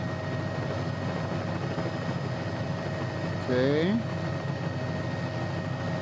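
Simulated Bell 206 L3 helicopter in Microsoft Flight Simulator spooling for lift-off, a steady turbine whine and rotor drone throughout, with a brief rising chirp midway and a short spoken word over it.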